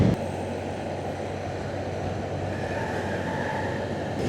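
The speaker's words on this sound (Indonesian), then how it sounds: "ada kereta ya sekitar sini" A commuter train rolls over a railway bridge near Yogyakarta with a steady, loud, close rumble and a low droning hum that lasts the whole stretch, and no one speaks.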